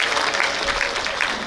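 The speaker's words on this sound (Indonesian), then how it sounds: "Tepuk tangan ya Allah." Brief burst of clapping from a group at a rector handover ceremony at an Indonesian Islamic university in Banten, dense and continuous, with faint voices mixed underneath.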